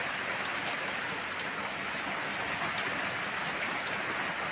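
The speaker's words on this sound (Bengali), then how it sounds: "আবার এখন খুব জোর বৃষ্টি নেমেছে।" Heavy rain pouring down steadily, a dense, even hiss of drops hitting surfaces close by, unbroken and fairly loud throughout with no voices.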